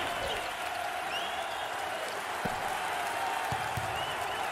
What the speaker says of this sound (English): The student body looks to be full with rage and willing to cheer on the old home team.